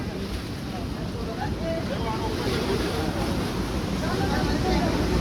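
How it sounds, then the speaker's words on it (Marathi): Sea waves wash in on the shore at Somnath, a steady broadband roar of surf mixed with wind buffeting the microphone, with crowd voices faintly underneath. "लाट येईल बघा इथं."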